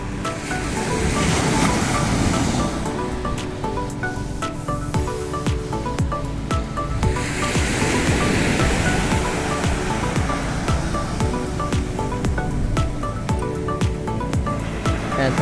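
Ocean surf at Tibu Tidal beach in Kasiguran, Aurora, roars steadily and close, with waves breaking and washing in continuous rolling swells and no voices.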